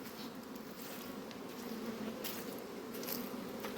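Bees buzzing around hives at an apiary, a dense steady hum of many insects with individual bees droning close past now and then, moderately faint and continuous, no talking.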